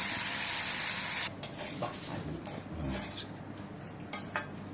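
Bitter gourd deep frying in oil gives a loud hissing sizzle at first, then quieter bubbling under clattering metal utensil stirs and pan scrapes close by.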